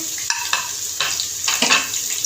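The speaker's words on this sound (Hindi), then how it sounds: "लहसुन की स्मेल ख़त्म होने तक हमने इसको फ्राई करना है" Ginger garlic paste frying in hot oil for a mixed vegetable dish, a continuous close sizzle broken by several sharp spoon stirs and scrapes, without talk.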